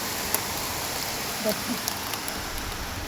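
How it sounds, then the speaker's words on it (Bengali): Heavy rain falls steadily outside a home kitchen, a dense, even hiss with a few faint clicks, heard from indoors as a constant wash of sound. "বাহিরে কিন্তু ঝুম বৃষ্টি হচ্ছে, এই ওয়েদারটা অনেক ভালো লাগে।"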